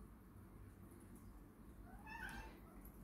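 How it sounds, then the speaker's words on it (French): A cat lets out a short meow partway through, faint and distant above a steady low background hum. "Chat."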